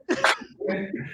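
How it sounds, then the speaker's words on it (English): A short, harsh burst like a dog's cough or sneeze, followed by a breathy, voiced huff; close and fairly loud. "that was my dog coughing"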